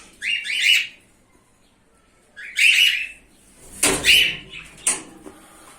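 Pet cockatiel and budgies give short, bright chirping calls, several separate bursts with quiet gaps between them, fairly close and clear, with no talking.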